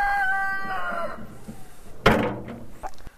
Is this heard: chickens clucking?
yes